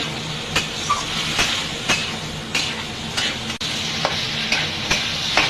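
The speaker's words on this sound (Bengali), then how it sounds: "চালটা দিয়ে একটু নাড়াচাড়া করে নেব।" Washed rice is stirred in a frying pot for bhuna khichuri, giving a steady loud sizzle with regular scraping strokes of the spoon against the pot roughly every half second.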